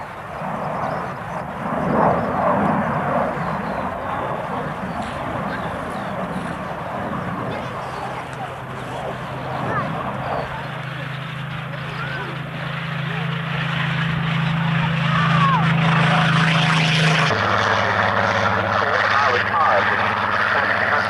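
Propeller-driven military aircraft flying at the RAF Coningsby airshow in 1992, an American type first built for the US Navy, its steady engine drone building louder toward the end beneath a continuous narrating voice.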